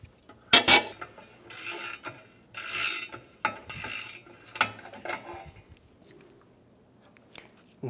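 A stud extractor works a bracket stud out of an old exhaust manifold from a 2007-2012 Nissan, giving close, intermittent ratcheting clicks and metallic grinding bursts with pauses between.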